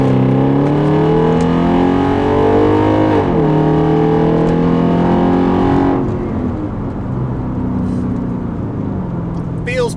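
A Mercedes E550 V8 revs hard from inside the cabin with the back seats folded down. The exhaust note climbs, drops briefly, then climbs again before settling into a steady, loud drone.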